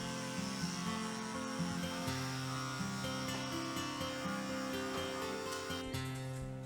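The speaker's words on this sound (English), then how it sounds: "it's time for a head shave before the session begins" Electric clippers shaving a head before a DHI hair transplant, a faint steady buzz heard under soft background music throughout.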